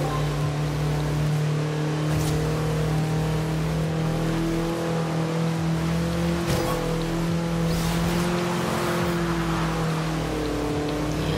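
A Lamborghini in Forza Horizon 2 holds a loud, steady engine drone with a sustained tonal whine, close and continuous, shifting slightly in pitch as it slides through a drift.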